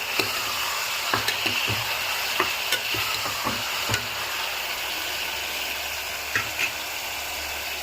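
Mutton frying in a pan as it is stirred for curry: a steady sizzle runs throughout, with sharp scraping clicks of the utensil against the pan, up close and with no talk.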